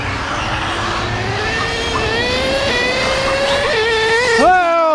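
A nitro-powered HPI Savage XL K5.9 3-speed RC monster truck races nearby, its small engine screaming in a high, steadily rising whine that suddenly drops and climbs again near the end as the gearbox shifts.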